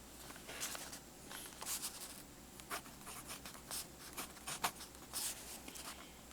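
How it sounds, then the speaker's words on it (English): A Pentel Vicuna mechanical pencil scratches across paper in short, quiet strokes and taps, close up and faint, with soft pauses between bursts and no speech. "using the Pentel Vicuna mechanical pencil"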